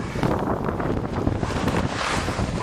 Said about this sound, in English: This wind is just blasting under here, coming off all that snow.